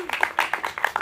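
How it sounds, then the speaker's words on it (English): An audience at a university student storytelling showcase claps in a short, brisk patter of scattered hand claps, with a voice briefly audible alongside. "Round of applause again"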